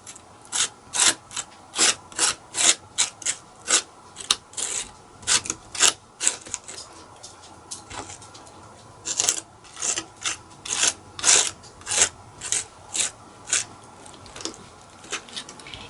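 Texture paste being spread in one direction across a wooden box, a series of short, close scraping strokes in a steady repeated rhythm, with a brief pause midway before the strokes resume.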